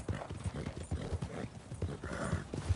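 Horse hooves clip-clopping in Red Dead Redemption 2, a steady, close four-beat walking rhythm of hollow knocks that carries on throughout, with faint game ambience and no talk.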